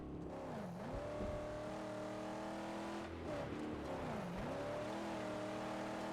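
A Mad Max video game car engine revs up and down in repeated sweeping pitches, a smooth synthetic whine with no talking.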